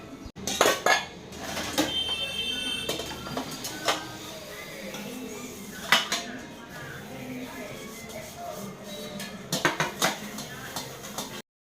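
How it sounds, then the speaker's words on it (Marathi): Dishes and pots scrubbed and washed in a home kitchen, with metal clanks and scraping clatters recurring throughout against a steady background rush, close by, no voice. "आता हे शिजेपर्यंत आपण पुढची कामं भांडी घासून घेऊ"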